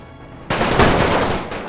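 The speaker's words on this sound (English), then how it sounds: "The flanking units should be in position to start opening fire." Gunfire from the strategy game The Great War 6.0 breaks out suddenly as a loud, dense volley of overlapping shots that keeps rolling on after a quiet start.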